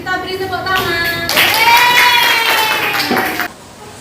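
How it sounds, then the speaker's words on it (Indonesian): Children in a primary school classroom clap their hands together in a brief burst of applause, with a high-pitched sung or chanted voice ringing out over the clapping. "Kita beri tepuk tangan."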